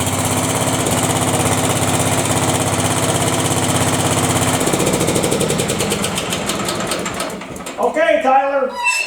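A cast iron Briggs engine running after being fired up, a loud, fast, steady mechanical chatter like a small mower engine, then slowing and sputtering down near the end as a person speaks.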